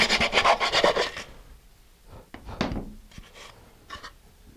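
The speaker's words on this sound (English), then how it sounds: "So I got a little bit more sanding to do." Sandpaper rubbed by hand inside an engine block, a fast run of rough rasping strokes at first, then slower scattered scrapes, close and fairly loud.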